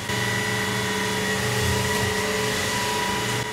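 An ILIFE W90 cordless vacuum cleaner runs with a steady, even motor whir and hum, unbroken for a few seconds.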